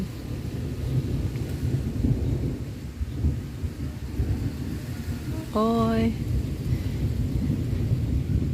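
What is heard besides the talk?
thunder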